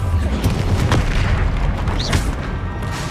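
Bombarda and Confringo spell explosions from the video game Hogwarts Legacy, booming blasts layered over continuous battle noise, loud and dense with several bursts running together.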